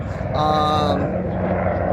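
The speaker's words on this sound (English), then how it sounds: "Another helicopter." A helicopter passes overhead outdoors during a car photography session, giving a steady, fairly loud rotor drone throughout, with a brief higher tonal whine early on.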